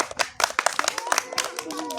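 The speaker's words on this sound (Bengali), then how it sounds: "চলো রেডি স্টার্ট হাততালি দাও একটা হাততালি" A group playing a village balloon-touch game claps in quick, uneven bursts close by, while people talk and call out over the clapping.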